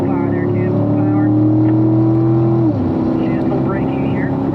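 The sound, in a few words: Corvette accelerating at full power on a race track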